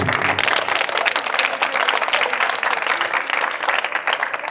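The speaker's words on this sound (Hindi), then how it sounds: "ताली बजा दो इसके लिए" A classroom of students claps together during a maths lesson, a dense and steady burst of applause filling the room at close range without pause.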